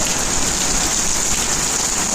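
Steady, dense rain pours down without pause, a broad hissing wash with a bright high edge, close and fairly loud throughout.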